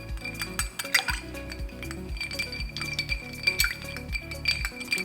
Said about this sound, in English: so we just stir it and then drink it